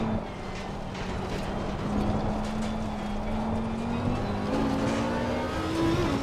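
An Audi race car engine in a racing video game at Zandvoort drones steadily, its pitch rising gradually as the car accelerates through a lap, loud and continuous with no talk.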